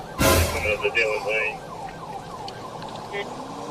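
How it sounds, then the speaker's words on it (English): Police car sirens wail, rising and falling faintly in the distance during a police chase, under a sudden close thump and rumbling road noise. "The sirens are blaring. I hear them in the background."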